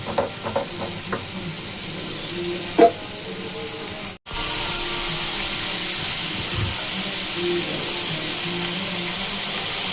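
Ground cashew and melon seed paste sautéing in a pan for paneer masala curry, a steady close sizzle with a few stirring scrapes and one brief dropout midway.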